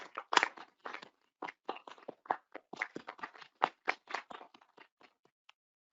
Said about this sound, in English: Round of applause for Lynn